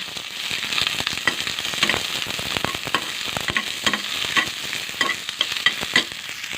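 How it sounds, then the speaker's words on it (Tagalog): Onion and garlic frying in a hot pan, a dense crackling sizzle with sharp popping spatters throughout, close and steady, with no voices. "mainit na yung kawali lalagay ko na sabay magsabay ko ng sibuyas at bawang"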